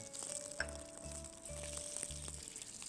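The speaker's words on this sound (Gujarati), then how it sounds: "અડદની દાળ શેકાય એટલે બહુ સરસ થઈ જાય ને સાહેબ એક ડુંગળી છે જેને મોટા ટુકડામાં સમારી છે એ નાખીશું" Chopped onion going into a tempering of fried urad dal in a home-style kitchen gives a quiet, steady sizzle, with faint rhythmic low thumps and a soft background hum, with no talk.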